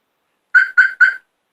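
Three quick, loud electronic chirps in a row, a car alarm arming from its key fob, with silence before and after.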